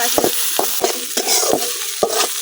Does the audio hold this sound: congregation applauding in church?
no